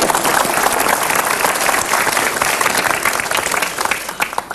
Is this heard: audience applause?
yes